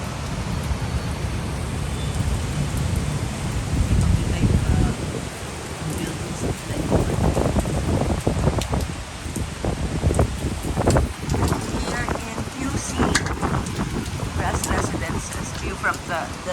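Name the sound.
heavy rain, heard from a 27th floor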